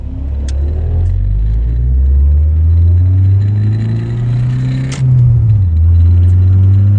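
A Camaro engine idles and rumbles steadily up close, its low drone rising and falling slightly as the revs shift.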